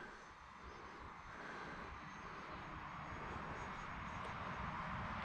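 An Avios C-130 Hercules RC model plane flying with its propeller engines, a steady airborne drone that swells slightly louder as it passes, heard outdoors without speech.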